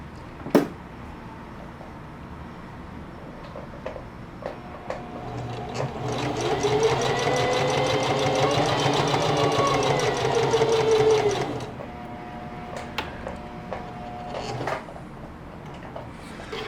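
A sewing machine stitches a back pocket onto a pair of jeans in one steady, rhythmic run of about five seconds, with quiet handling clicks and taps before and after.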